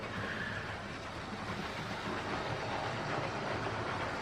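A Hornby King Edward model locomotive runs steadily over a set of points on a model railway. It makes a continuous, fairly quiet rolling rumble with faint track clatter and no talk over it.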